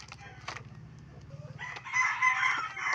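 A rooster crows in the background of a home recording in the Philippines, a raspy call with clucking fowl nearby, moderately loud and partly overlapping an indoor setting.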